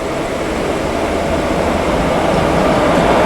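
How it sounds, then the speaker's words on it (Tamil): Boat Mail passenger train at Villupuram junction, a steady broadband rumble of rolling wheels and carriages held close and loud throughout, swelling slightly toward the end with no voices. "இதுதான் போட் மெயில்"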